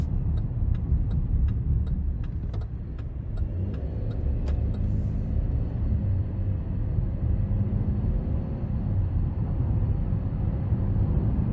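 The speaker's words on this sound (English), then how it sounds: "And just love how quiet the engine is under just normal acceleration." Steady, quiet engine and road drone from inside a 2023 Chevrolet Traverse 1LT with the 3.6 engine under normal acceleration, a constant low rumble with faint ticking clicks early on and no talk.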